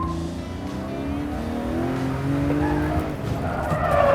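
A car drifting on a race track revs hard while its tires squeal in rising, sliding tones, loud and close throughout.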